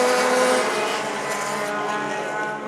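Race cars roar around Stockton 99 Speedway in a loud, continuous engine drone at close range, the pitch shifting slightly as the pack surges past.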